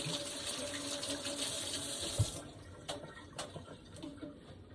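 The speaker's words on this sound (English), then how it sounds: "let me wash my hands off a little bit" Water runs steadily from a tap for a few seconds while hands are washed, a close, even splashing that thins out partway through and gives way to a few faint clinks and rustles.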